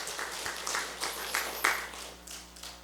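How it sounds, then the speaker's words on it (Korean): A church congregation gives sparse, scattered claps in a quiet hall, a few distinct hand claps heard at moderate distance, encouraging students. "격려의 박수 한번 보내드리겠습니다."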